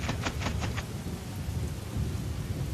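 A thunderstorm in the video game One Piece: Pirate Warriors 3, a steady heavy roar of rain and low rumbling thunder, with a brief patter of sharper drops at the start, loud and continuous, no voices.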